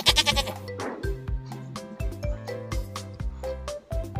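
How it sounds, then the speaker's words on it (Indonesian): Sheep bleating in a series of loud, wavering calls, several in quick succession, with no talk. "Domba."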